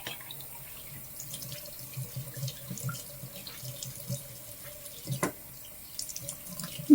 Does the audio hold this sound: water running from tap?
yes